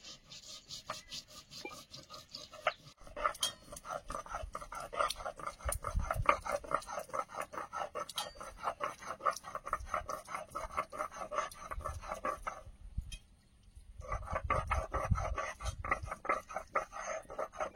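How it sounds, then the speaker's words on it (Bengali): Cumin is ground on a stone with steady, rhythmic back-and-forth rasping strokes, close and continuous. The rasping stops briefly and then resumes. "জিরেটা বেটে নেব।"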